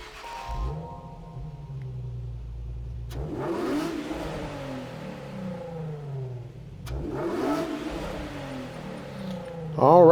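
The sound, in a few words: 2008 Nissan Fairlady Z (Z34) engine startup, video game Gran Turismo 7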